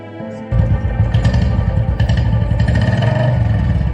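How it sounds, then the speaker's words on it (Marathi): A motorcycle starts up and pulls away during an outdoor school drama performance, its engine rising suddenly into a loud, close, steady throbbing rumble that continues to the end. "तो साहेब तुमची मोटरसायकल घेऊन गेला"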